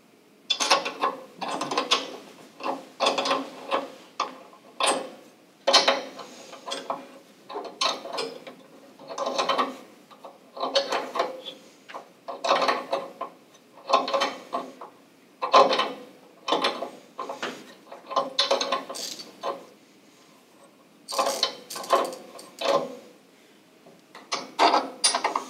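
A ratchet wrench with a standard 13 mm socket loosens bolts on a Weil-McLain SlimFit boiler, a steady run of rapid clicking bursts in short repeated strokes, close and fairly loud, with no talk.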